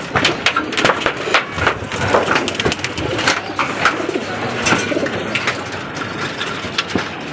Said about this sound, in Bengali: এই যে মাদি কবুতর